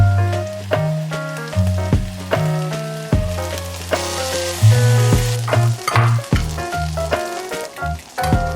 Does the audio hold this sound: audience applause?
no